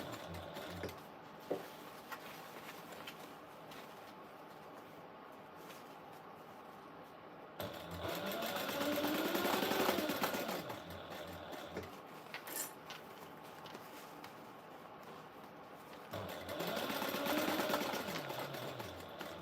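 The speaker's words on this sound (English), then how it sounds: "now I'm going to finish sewing across here at the 3/8 inch seam allowance from inside of the pocket" Sewing machine stitching across a pocket seam at a 3/8 inch seam allowance, two bursts of steady rapid whirring separated by a quieter pause, close and alone.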